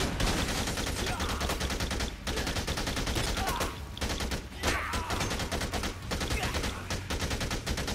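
Sustained light machine gun fire in Dead Rising 2, dense rapid bursts filling the whole stretch with only brief pauses, loud and close amid game noise.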